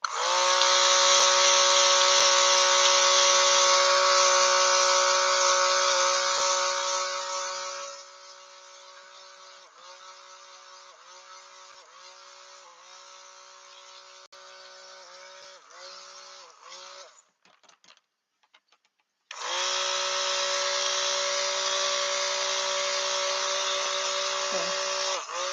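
Blender blades whirring through a batch of handmade vegan soap: a loud steady motor whine, then a quieter lower drone with small pulses, a brief near-silent break, and the full whine returning.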